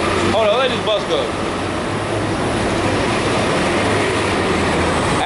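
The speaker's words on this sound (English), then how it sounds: "Hold on, let this bus go." A bus passing along a city street, a loud continuous broadband roar of engine and road noise filling the whole stretch, with a voice talking briefly near the start.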